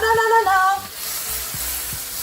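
Butter sizzling and burning in a pancake pan, a close, steady frying hiss with faint crackles, a short tonal squeak over the first second.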